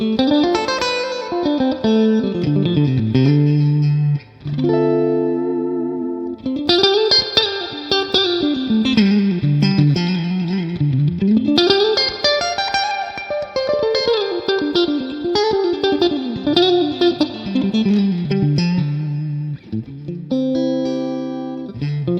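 An electric guitar, a 335, plays a melodic line with chords through an amp and a 212 Vox cabinet, its notes ringing out with noticeable reverb tails, loud and close.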